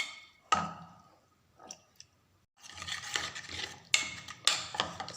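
Boiled mustard greens being mashed for sarson ka saag in a pot, with scattered squelching presses and scraping strokes, a sharp clack near the start and a denser run of mashing toward the end, close and moderately soft.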